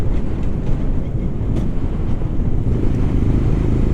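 A Royal Enfield Scram 411 motorcycle rolling downhill, a steady low engine drone under heavy wind rush, close and loud with no distinct gear changes standing out.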